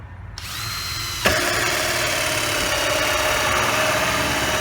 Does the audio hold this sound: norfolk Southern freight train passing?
no